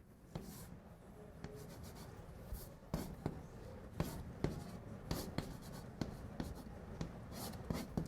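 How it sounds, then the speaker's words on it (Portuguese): Chalk or marker strokes on a board during a university calculus lecture, with irregular taps and scratchy strokes coming in short bursts, close and fairly quiet. "Agora eu vou escrever a expressão."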